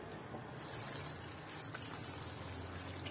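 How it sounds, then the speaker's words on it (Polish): Water poured into a pot of vegetables, garlic, broad beans and dried mushrooms for vegetarian broth, a soft steady splashing trickle heard close, low in level, with no talking. "Zalewamy to wodą."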